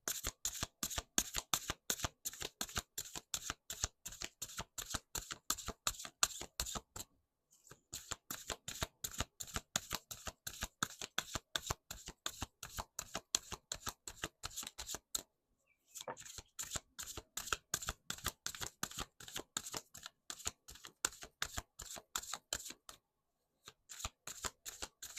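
Oracle cards of the 7 energies deck being shuffled by hand, a long run of rapid crisp riffling flicks in steady bursts, broken by a few brief pauses, close and clear with no talking.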